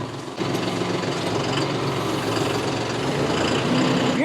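A 75 horsepower John Deere tractor engine runs at a steady, rumbling idle close by, a continuous low drone with no talk over it, used for sickle bar mowing.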